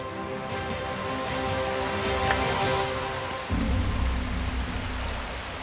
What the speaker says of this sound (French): Il pleut tellement, il n'y a plus rien qui marche pour protéger les caméras.